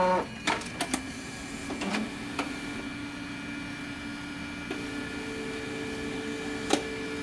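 An HP laser printer, loaded with a resealed HP 98 / Canon EP-E toner cartridge, warms up and prints a demo page. A few sharp clicks and clunks come first, then a steady, close mechanical hum and whir with an occasional later click.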